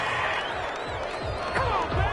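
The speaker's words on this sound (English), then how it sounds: "This home crowd, they're happy with that call." A home crowd in an American football video game cheers a referee's call, a steady broad roar of many voices with swells and whoops rising near the end, continuous throughout.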